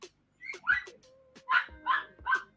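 A dog barks and whines to be let inside, several sharp yelps and whimpers in a row, close and fairly loud with short pauses between.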